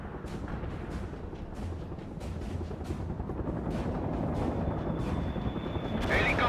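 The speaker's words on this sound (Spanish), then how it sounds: "Helicópteros enemigos abatidos." Helicopters in the real-time strategy game World in Conflict, a steady rotor drone under continual distant explosions and gunfire cracks, growing slightly louder throughout, with a voice in the mix.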